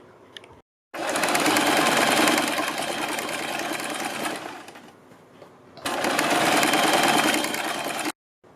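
A sewing machine stitches folded kurti fabric in two long, loud, steady whirring runs close by, split by short pauses and stopping abruptly at the end.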